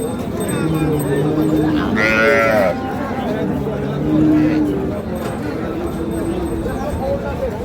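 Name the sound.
dairy cow and calf at a cattle market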